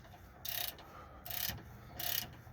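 Ratchet wrench tightening a sway bar link on a 2002 Dodge Ram 1500 Sport, three short bursts of rapid clicking spaced evenly apart, close and fairly quiet.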